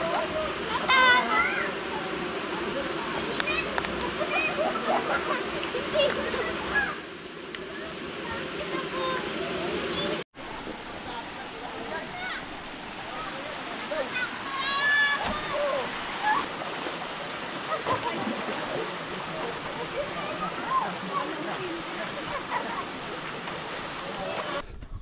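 Clear shallow river rushes and babbles steadily in the background while people talk now and then, with occasional birdsong and a high insect drone in the later part.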